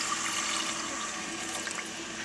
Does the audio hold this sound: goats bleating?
no